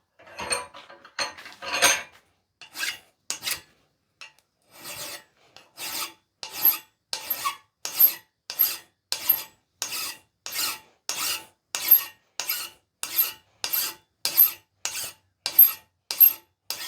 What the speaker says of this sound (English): we're going to clean up the taper a little bit with a file